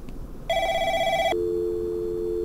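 Electronic telephone ringing inside a shop-running video game, a bright sustained ring that switches partway to a lower steady tone, loud and close with no talking over it.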